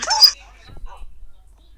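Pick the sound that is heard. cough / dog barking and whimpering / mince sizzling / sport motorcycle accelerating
dog barking and whimpering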